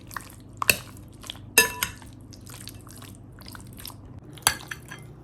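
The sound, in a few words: mixing Greek yogurt and honey in a bowl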